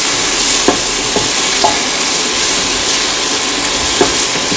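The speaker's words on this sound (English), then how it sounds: "Saute the tomato pieces thoroughly." Tomato pieces sautéing in a pan, a loud, steady sizzle broken by a few sharp clinks and taps of a utensil stirring them, close up and with no talk.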